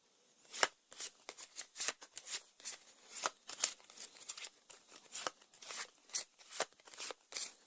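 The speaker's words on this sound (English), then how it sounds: "I think I will discard 1 card from my hand at random" Playing cards for the Arkham Horror card game are shuffled close up in a quiet setting, giving a steady series of crisp riffling bursts with brief pauses between them and no talking.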